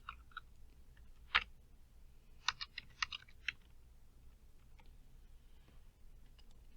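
Short bursts of computer-keyboard typing as a spreadsheet worksheet gets a new name, a few quick clustered keystrokes and isolated clicks, close and fairly quiet in a still room with no talk.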